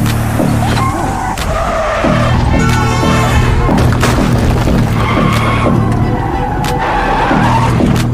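A car crash scene from a 2022 Korean crime thriller: a loud engine roar, tire skids and heavy impacts come in quick succession, mixed over a dramatic music score.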